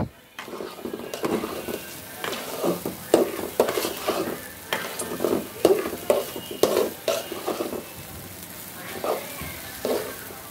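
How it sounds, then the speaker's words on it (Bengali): Long-grain rice frying in a pot with 3-4 cinnamon pieces for biryani, stirred with a steady, close rhythm of scraping and soft sizzling strokes, with a brief quieter pause near the end. "আমার চাল ভাজা হয়ে গেছে"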